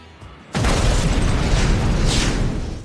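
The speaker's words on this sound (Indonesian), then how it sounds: "meledak." A car explodes in a Transporter 3 action scene: a sudden loud blast bursts in after a quiet half-second, then a dense roaring rumble and debris crackle sustain and slowly fade.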